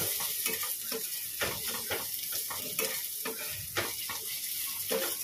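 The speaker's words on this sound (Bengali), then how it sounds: "এবার এটার সাথে এটা ভাজবো ভালো করে, যতক্ষণ না এই আদা রসুনের কাঁচা গন্ধটা যাচ্ছে।" Ginger garlic paste fries in a pan with a steady, close sizzle, broken by regular scraping strokes as it is stirred.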